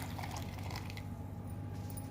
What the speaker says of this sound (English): Now this hot water I'm going to add to this